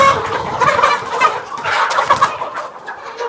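Sonali laying hens clucking busily and continuously close by on a farm, several birds overlapping in a steady chatter with no talking.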